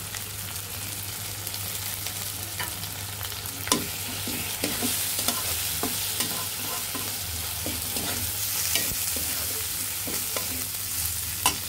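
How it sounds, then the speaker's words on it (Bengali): Red lentils sizzle in hot oil with ground coriander, turmeric, chili powder, ginger and garlic as a spoon stirs the pan, giving a steady, close fry hiss broken by frequent scraping and clinking strokes. "এখন ভালোভাবে কষিয়ে নিতে হবে"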